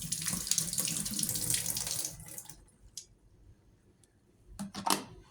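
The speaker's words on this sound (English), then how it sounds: "The first step is to just pour out the water, of course." Water pours out of a glass kettle into a sink, a steady splashing rush for about two seconds, followed by a few brief drips and splashes.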